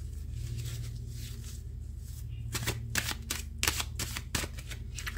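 Tarot cards being shuffled in quick riffling bursts, growing busier toward the end, with a low steady hum beneath.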